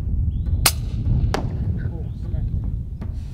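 A rifle fires at a dassie on an outdoor farm hunt: two sharp, sudden cracks stand out over a steady wind-like rumble.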